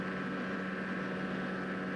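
An ultralight aircraft engine holds a steady 5200 rpm in flight, a continuous loud droning hum with a strong low tone and constant buzzing overtones and no change in pitch, alone without voices.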